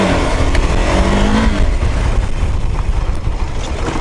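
A KTM Adventure 390 motorcycle engine runs on a test ride, a steady loud mechanical drone with a brief rising rev pitch near the start, no talking.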